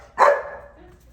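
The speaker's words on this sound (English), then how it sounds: "And she sees a person, so she's barking." Small dog giving a single sharp bark at a person during a walk, close and fairly loud, then quiet.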